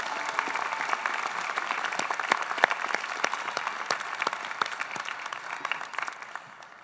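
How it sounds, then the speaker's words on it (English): Audience applause at a 2024 high school commencement ceremony in the International Theater, a steady wash of many hands clapping at moderate level, holding for several seconds before easing slightly at the end. "How about a nice round of applause for their successes and leadership?"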